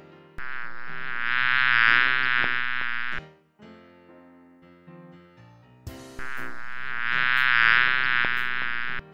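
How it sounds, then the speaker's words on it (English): A bee's buzz drones steadily in two long sustained stretches over a gentle musical backing, the insect loud and close with a pause of music between. "Bee."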